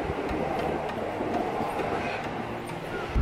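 A Tokyo commuter train heading for Omiya, running on its line: a steady close rumble of wheels and carriage noise with faint rhythmic clatter, no voices over it.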